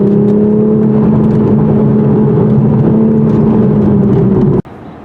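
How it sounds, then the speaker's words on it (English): Inside the cabin of a 2023 Toyota Supra with a 6-speed manual, an artificially generated exhaust note plays as a steady, loud engine drone with a held pitch, then cuts off abruptly near the end. "this exhaust sound is fake, being generated and piped in through the cabin"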